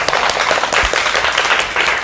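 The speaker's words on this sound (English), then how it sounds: "can we have a big round of applause for Mary?" A room of people applauding a numerology talk speaker, with dense, loud, continuous clapping from nearby and all around that stays even for two seconds.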